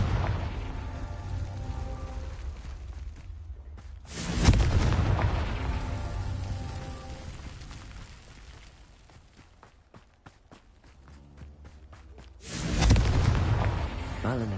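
Confringo explosive spell cast in Hogwarts Legacy, heard as two loud booming blasts, one near the middle and another toward the end, over continuous game ambience and rumble.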